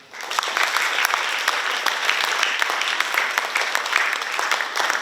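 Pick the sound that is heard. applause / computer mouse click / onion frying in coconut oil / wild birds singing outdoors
applause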